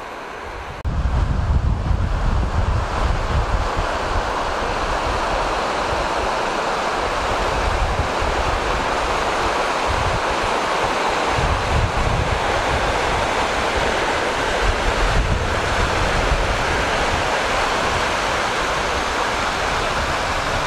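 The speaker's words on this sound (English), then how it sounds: "Nice white water here" Whitewater rushes loud and steady through Burro Creek in Arizona after days of rain, a dense continuous roar close by, with gusts of wind buffeting the microphone.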